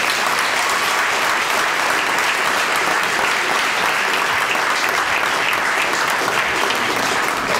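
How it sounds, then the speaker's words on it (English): Sustained audience applause for a panel at a discussion event, a dense, steady wash of clapping that stays loud and even throughout with no break. "Let's give a round of applause to our panel."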